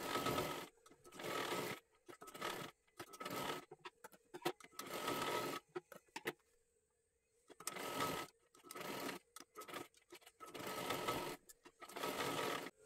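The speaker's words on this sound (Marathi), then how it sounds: "इथे पूर्ण डबल शिलाई मारून घ्या" A sewing machine stitches a saree garment in repeated loud bursts of rapid mechanical clatter, each lasting a second or two, with a brief quiet pause midway before the stitching resumes.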